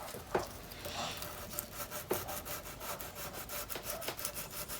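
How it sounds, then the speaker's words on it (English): Sandpaper rubbing over a glued repair on a Cort X 11 electric guitar, a steady close scratchy rasp with a few sharper strokes, no talking. "what I'm going to do now is take a little bit of sandpaper"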